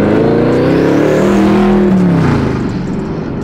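Kevin Hart's twin-turbo Camaro, nicknamed Bad News, is revved hard. A loud, close engine roar climbs and falls in pitch continuously for a few seconds, with a deep rumbling tone and no voices.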